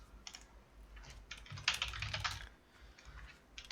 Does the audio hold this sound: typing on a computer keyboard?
yes